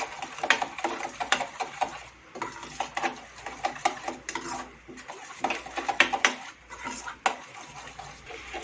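A spoon mixing a Maggi masala snack in a bowl, with repeated clinks and scraping strokes in an uneven rhythm at close range.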